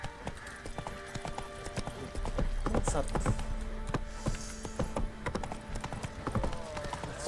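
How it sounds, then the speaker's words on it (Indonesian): Horse hooves clip-clop steadily in The Witcher 3 as the mount is summoned and ridden, a repeated near rhythm running under game sounds and a few spoken words. "Panggil kuda"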